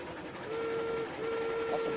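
A steam locomotive whistle sounds in the Railroads Online video game, a steady tone that holds, breaks briefly, then sounds again over a hissing, rumbling rail backdrop.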